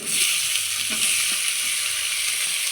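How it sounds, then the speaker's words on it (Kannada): Tomatoes tossed into a hot frying pan for palak dal give a steady, close, loud sizzle with frying crackle and faint stirring throughout, and no talking. "ಈಗ ಟೊಮೊಟೊ ಸೇರಿಸ್ತಾ ಇದ್ದೀನಿ."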